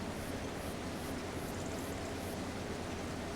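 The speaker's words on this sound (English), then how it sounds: "Yep, that's the train." A train passes in Farming Simulator 25, a steady, even rumble of broadband noise with faint repeating high tones, moderately loud and with no talk over it.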